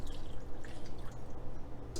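Water poured into a metal broiler pan beside a clay pot of chicken biryani, a steady soft splashing and dripping trickle running continuously for a couple of seconds, close and fairly quiet.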